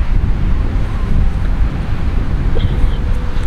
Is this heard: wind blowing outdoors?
yes